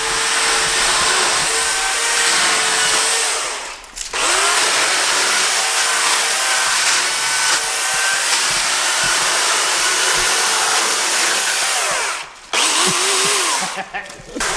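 Loud continuous spraying with a compressor-like roar, making fake rocks for a bike park set, runs almost the whole time, with two short dropouts and a brief pause near the end.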